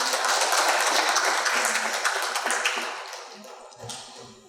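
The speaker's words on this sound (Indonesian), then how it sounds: "Tepuk tangan semuanya." Audience applause at the opening of a student orientation week event, a dense wash of clapping that starts strong and gradually thins out and fades toward the end.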